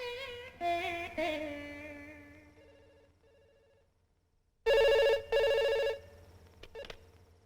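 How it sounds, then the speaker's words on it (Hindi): A telephone rings twice in quick bursts, loud and close, after a stretch of fading musical tones in a dubbed film scene, then goes quiet. "फोन श्री हरि का ही था"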